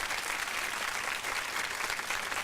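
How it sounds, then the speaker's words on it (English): Audience applause during a local radio talk show appearance, a steady dense wash of clapping that holds at an even level for about two and a half seconds with no voices over it. "That deserves a round of important."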